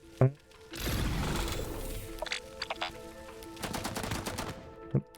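Gunshots in the video game Zephon, a cluster of sharp rapid reports and a short rattling burst near the middle, with faint spoken words in between.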